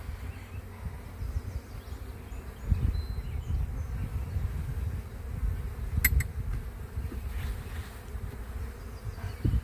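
Honey bees buzz continuously from an opened hive during an inspection, a dense, agitated drone close by with a few faint knocks and clicks from handling the frames.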